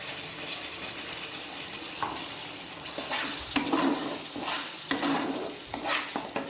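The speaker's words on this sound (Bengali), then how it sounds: "এবারে এতে আমি বেটে রাখা মশলাটা দিয়ে দেব।" Ground spice paste for paneer butter masala hits a hot pan and fries with a constant sizzle, while a spoon stirs it in repeated scraping strokes close by, with no voices.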